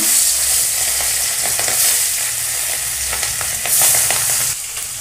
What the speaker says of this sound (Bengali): তেল গরম হয়ে গেছে ইলিশ মাছগুলো হালকা ভেজে নেব